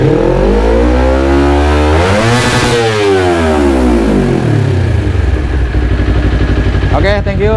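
A Kawasaki Ninja 250 Fi motorcycle engine revs loud and close, its pitch rising to a peak then falling and settling back toward a steady idle, with a voice briefly heard near the end.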